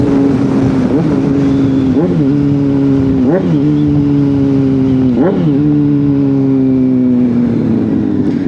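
A Honda CBR600RR motorcycle engine with an aftermarket exhaust and no catalytic converter idles with a deep, throaty exhaust rumble, blipped through several sharp revs in a steady rhythm, loud and close.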